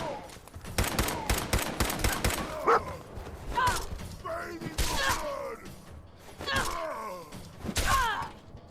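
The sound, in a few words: dog barking in the video game Fallout 4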